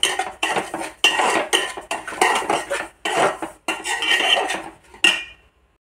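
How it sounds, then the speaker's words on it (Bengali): Semolina being lightly fried and stirred in a pan, with a utensil scraping the pan in a series of about six close, fairly loud strokes that stop abruptly near the end. "সুজিটা হালকা করে ভেজে নিচ্ছি।"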